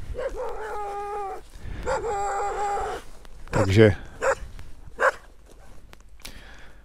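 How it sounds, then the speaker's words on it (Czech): Several dogs bark, yip and howl in a rough chorus close by on a motorcycle trip near a limestone quarry, with someone speaking briefly among the calls. "A už běžou moji kamarádi psi."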